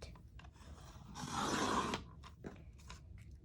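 Blue glitter paper being cut on a cutting board with a blade, one soft rasping slice lasting about a second amid faint scratchy handling noises in a quiet room.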